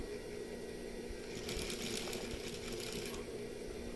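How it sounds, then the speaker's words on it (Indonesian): A sewing machine stitches fabric for a koko shirt, sewing an angled corner seam, giving a steady, close whirring run of rapid stitches that swells for about two seconds in the middle, with no talking. "di sini kita jahit dibentuk siku seperti ini ya"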